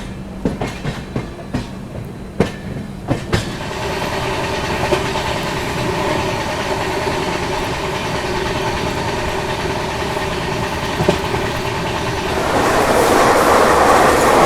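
The Delhi–Rajgir Shramjeevi Express runs on after leaving Bareilly Junction, giving a steady loud rumble with a droning engine tone and a few sharp wheel clacks at the start, swelling louder near the end.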